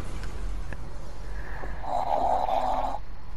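A sleeping person snores with a single drawn-out, rattling nasal rasp after a couple of softer breaths, heard faintly over a steady background hum.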